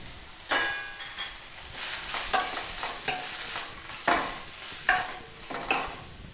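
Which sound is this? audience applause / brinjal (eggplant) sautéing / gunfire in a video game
brinjal (eggplant) sautéing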